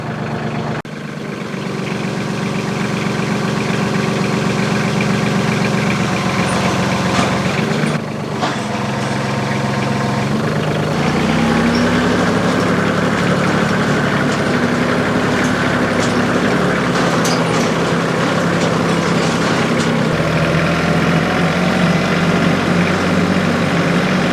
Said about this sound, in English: this front bit here is a little generator, essentially that powers the whole thing